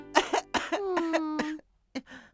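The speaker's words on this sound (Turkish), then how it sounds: "Öksür bakalım." A cartoon fish character coughs at the doctor's in a children's animated series, giving a few harsh, close barking coughs, one stretched into a strained voiced rasp, with a brief pause before a final short cough.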